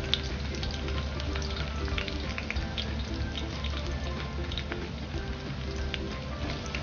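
Onion frying in a pan with ginger-garlic paste for a prawn biryani, a dense continuous crackling sizzle, close and steady throughout.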